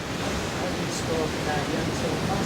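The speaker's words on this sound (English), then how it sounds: "Look at these waves." Ocean waves break steadily at the Margaret River main surf break during a pro surfing heat, a broad continuous wash of surf with no distinct individual crashes.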